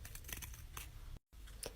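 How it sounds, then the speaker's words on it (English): Scissors cut out a paper shape in a series of crisp, close snips, with a brief silent pause near the end before the cutting resumes. "You can use scissors or an X-Acto knife"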